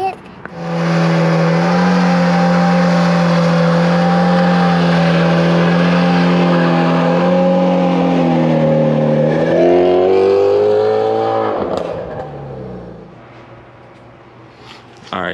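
Shelby GT350 with a Gen 5 Whipple supercharger doing a burnout: a loud, close engine holds a steady high-revving roar for about ten seconds, then winds down and fades as the revs drop.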